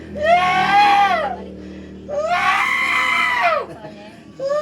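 A person screams in two long, loud, harsh outbursts with a short gap between them, and a third cry starts at the end. Nobody speaks over the screams.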